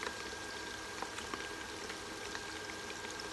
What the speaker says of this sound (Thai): ทอดแล้วนะคะ